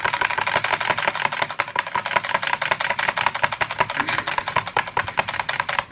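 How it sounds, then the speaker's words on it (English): A whisk beats cupcake batter in a bowl with a fast, steady rhythm of sharp clicking taps against the sides, close and moderately loud throughout. "I'll give it a good whisk, break down any lumps of powder that might be in there."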